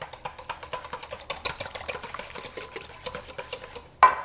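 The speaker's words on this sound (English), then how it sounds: "we're going to go ahead and whisk that really well" Egg and vanilla whisked in a bowl, a quick regular clicking rhythm of the whisk against the sides, close and fairly quiet, with a sharper knock near the end.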